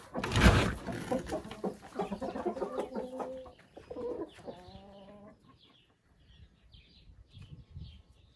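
Hens cluck and squawk inside a henhouse, one loud cackle up front followed by a run of rhythmic clucking that thins out into scattered soft calls.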